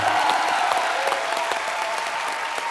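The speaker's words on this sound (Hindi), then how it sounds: "जोरदार तालियां आ जाएं" Dense, steady applause from a large TV comedy show studio audience, loud and sustained throughout with no voices standing out.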